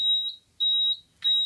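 A fire alarm panel sounds its battery trouble signal, a clear high-pitched electronic beep repeating in three evenly spaced pulses, close and alone.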